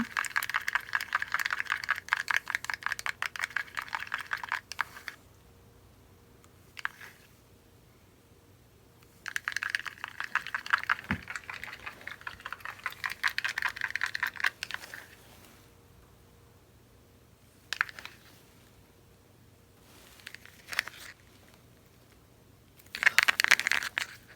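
Acrylic pour paint with a few drops of black acrylic ink is stirred by hand with a stick in a cup. Bursts of scraping and sloshing come up close, broken by pauses, with no talking.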